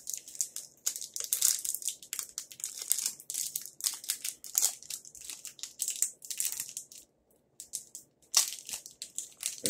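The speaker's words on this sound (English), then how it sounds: "Okay, I had to do that to get the bag open." A Japanese candy package bag is crinkled and crumpled while being worked open, giving close, bright plastic rustles in irregular bursts with a brief pause partway through.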